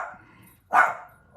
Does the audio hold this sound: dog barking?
yes